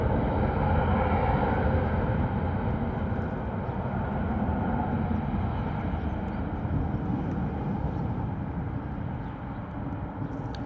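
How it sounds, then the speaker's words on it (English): A Boeing 737 airliner departs on take-off at Bristol Airport, a broad, steady jet roar that stays loud and sustained throughout, with no voices over it. "Boeing 737 right now out the door,"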